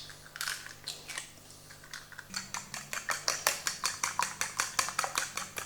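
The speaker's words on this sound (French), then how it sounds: "Donc après tu mélanges les œufs avec de la banane." Eggs are mixed into mashed banana in a bowl, with a utensil beating in a quick, steady rhythm of close clicking, squelching strokes that start sparse and settle into a regular fast pace, with no voice.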